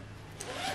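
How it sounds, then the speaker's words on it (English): Zipper on an adjustable pillow cover pulled closed in one short, close, raspy zip with no voices. "and zip it up"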